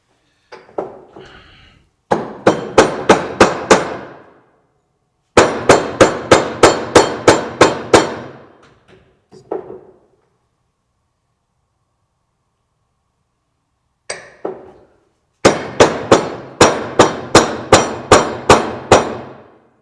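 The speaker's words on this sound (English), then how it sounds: "Let me go drive that in at my workbench." Restoring an International Farmall Super H tractor, a part is hammered in at a workbench: several bursts of sharp, ringing metal blows in quick rhythmic runs, loud and close, with pauses between sets and no talking.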